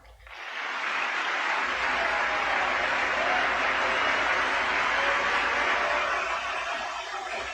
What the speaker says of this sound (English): Notice they're all standing, all of the U.S. Congress, every one of them, standing and clapping, yay, yay, yay.